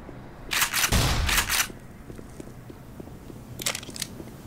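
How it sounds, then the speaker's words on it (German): Crates exploding in the video game Black Mesa: two loud, close bursts of crunching blast noise, then a fainter pair of cracks a couple of seconds later over quiet background. "da waren wieder explodierende Kisten"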